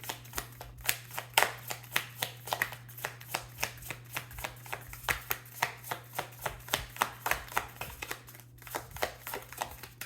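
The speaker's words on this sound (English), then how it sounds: "Okay, one more shuffle" Moonology Oracle cards being shuffled, a quick rhythmic series of crisp riffling slaps close by over a steady low hum, with no talking.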